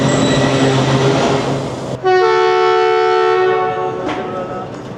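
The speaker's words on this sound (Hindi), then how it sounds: "दोनों डिपार्चर्स हॉर्न होने के हो गए और ट्रेन रवाना हो गई" The Jaffar Express sounds its horn on departure after a short station stop, loud and close: a long sustained blast over the rumble of the train, then a brief second toot near the end.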